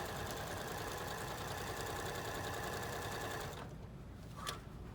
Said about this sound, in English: And you are just going to start to sew.